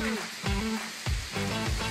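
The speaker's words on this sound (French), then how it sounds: "Oh là là, il pleut." Close, steady patter of rain hitting a surface, with dense splashy hiss throughout and a few louder drops or thumps.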